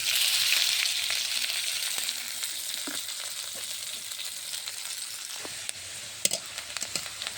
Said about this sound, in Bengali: কড়াইয়ে পেঁয়াজ দিয়ে দিলাম